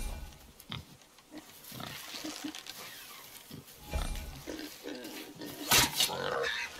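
Low grunts and snorts from a boar in the God of War PC game, scattered across the clip alongside game sound effects and a sharp burst near the end, with faint voices in the mix.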